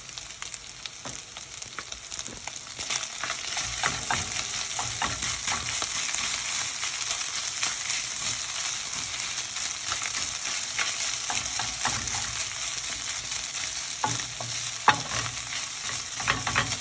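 Rice fries and sizzles in a hot pan while a utensil stirs it, giving a steady crackling hiss broken by repeated scraping strokes, close and continuous with no talking.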